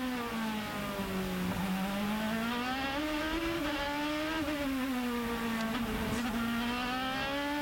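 An IndyCar race car engine heard onboard at Long Beach, a loud continuous high-pitched whine that rises and falls slightly through gear changes and braking, dominating throughout.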